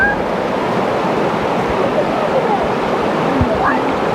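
A river flowing beside a campsite in the Hoh Rain Forest, Olympic National Park, Washington, gives a steady, broad rushing wash of water throughout, with faint voices and a few small knocks mixed in.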